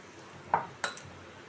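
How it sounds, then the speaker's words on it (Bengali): A metal kadai set down on a home kitchen stove, giving two quick clanks about a quarter second apart with a faint ringing tail. A quiet room follows. "এখানে কড়া বসিয়ে দিয়েছি"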